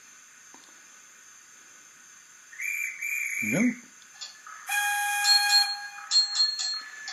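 A shrill railway guard's whistle blast sounds, then a longer, louder multi-tone train whistle with hissing steam. Someone speaks a few words briefly in between.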